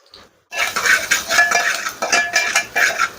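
Finely chopped onion is sautéed in a pan in a village home kitchen while a prawn curry is cooked, a metal spatula scraping and clinking against the pan in quick repeated strokes, close and loud, with no talk.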